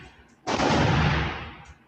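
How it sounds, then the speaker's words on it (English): A single burst of AK rifle fire in a shooting video game, loud and dense, lasting about a second before fading into a faint background bed. "That's an AK."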